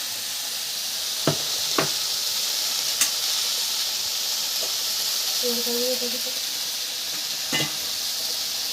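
Ginger-cumin paste hits a hot pan for a Bengali cauliflower stem curry, and a steady hiss and sizzle runs throughout. A few sharp utensil knocks and a brief tonal squeak cut through it.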